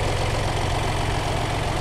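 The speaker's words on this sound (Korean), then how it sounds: "엔진 소리 일정하네요." A third-generation Mini Cooper D 5-door diesel idles with its engine bay open, giving a steady, even low rumble with a faint knocking texture. It is close and constant, with no talking over it.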